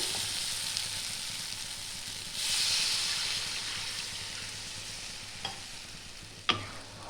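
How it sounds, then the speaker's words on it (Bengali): Water poured into a hot pan of frying vegetables for a Mayapur-style vegetarian dish, a steady moderate sizzle swelling as the liquid hits, followed by a couple of sharp clinks of a utensil against the pan. "এবার দিয়ে দেবো আমি জল,"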